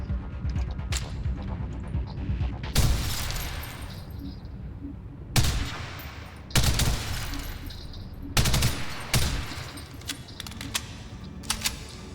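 Rapid bursts of gunfire from a gun in the Ghost in the Shell Online shooter game, fired in several loud clusters with short gaps between them over a steady low background hum, and no talk.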